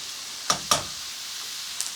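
Pork chorizo and onions cooking in a pan: a steady soft sizzle with two sharp utensil clinks close together and a fainter tap later, with no voices.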